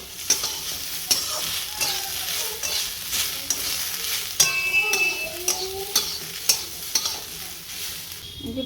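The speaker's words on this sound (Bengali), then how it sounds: "আলু ভাজা হচ্ছে শুকনো লঙ্কা আর কালো জিরে দিয়ে।" Potatoes fry in a pan with dried red chillies and black cumin, sizzling steadily while a metal spatula strikes and scrapes the pan in regular sharp taps about once a second.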